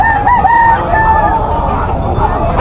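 Bull stag rooster crowing at a busy chicken market, a loud close crow rising over dense crowd murmur and other fowl, with people chattering throughout.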